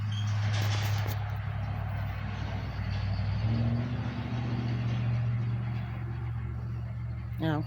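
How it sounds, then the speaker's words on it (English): A truck hauling a long trailer rumbles along a road with a steady low engine drone, fairly close, ending with a brief hiss like an air brake. "That truck is hauling a long trailer."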